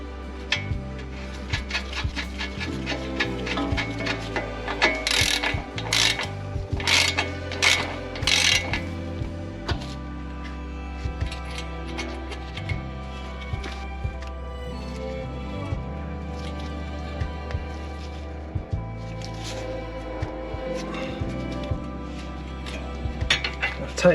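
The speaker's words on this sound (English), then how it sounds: "Tighten this nut back up." A ratchet tightens a castle nut on a new tie rod end of a 2010 Toyota Camry, giving repeated metallic clicks and clanks in uneven bursts, close up, with brief gaps between strokes.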